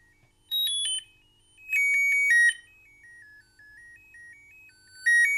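Electronic test tones from the small speaker of a TEC-1G single-board computer: clean bursts of beeps and stepping pitches, some shrill and loud, others softer, separated by silence.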